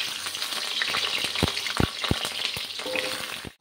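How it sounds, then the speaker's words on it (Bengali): Potatoes frying in hot oil in a wok give a loud, continuous sizzle, with several sharp clanks and scrapes of a utensil against the pan; no talking. "এবার আলুগুলোকে প্রথম ভেজে নেব একদম লাল লাল করে"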